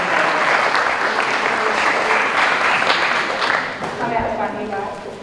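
A graduation crowd at a high school ceremony claps steadily and loudly for several seconds, the applause thinning slightly toward the end with faint voices mixed in.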